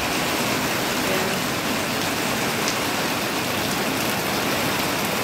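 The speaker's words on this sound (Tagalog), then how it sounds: "Sobrang lakas ng ulan" Heavy, steady rain with thunder pours down loudly and continuously in a rural province, a dense hiss of water hitting surfaces up close.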